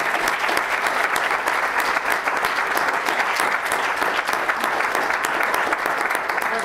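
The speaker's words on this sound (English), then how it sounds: "Maybe we'll have a little round of applause for all the people." Loud, sustained applause from a panel session audience on waste management, many hands clapping densely and steadily throughout with no pauses or speech.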